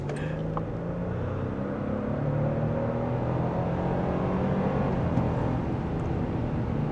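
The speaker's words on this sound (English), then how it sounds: "let's chuck it in this corner and do another highway acceleration" A 2025 Toyota Tundra TRD Rally pickup accelerating on a highway, heard from inside the cab as a steady engine drone rising slightly over dense road and wind rumble, with no talking.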